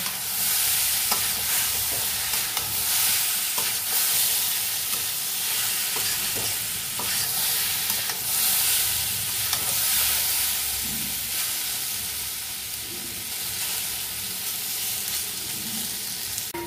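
Jackfruit coated in gram flour fries and sizzles in a pan, a continuous loud hiss with scattered scraping clicks as the pieces are stirred and turned, and no talking.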